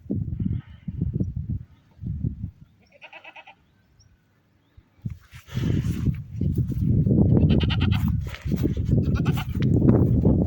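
Goats bleat in short, repeated calls near the listener, with a brief quiet gap midway, then louder overlapping bleats and animal noise.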